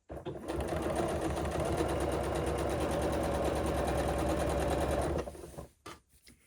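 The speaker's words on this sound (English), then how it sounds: "now move the needle to the very, very edge so that you will be stitching inside that stitch." A sewing machine runs steadily, stitching close along the edge of a fabric seam during Regency-style dressmaking, a loud continuous mechanical whir that holds for about five seconds before stopping abruptly.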